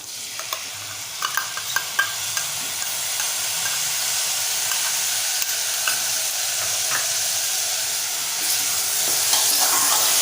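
Onion-coconut paste stirred into spiced sprouted chana masala in a pan, with a close, steady sizzle and hiss under repeated scraping spoon strokes that tick out early on, then settle into a continuous fry.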